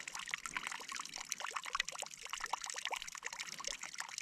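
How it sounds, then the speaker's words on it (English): A small waterfall in a snowy winter landscape splashes and trickles steadily, a continuous fairly quiet patter of falling water with no voices. "Where water comes down."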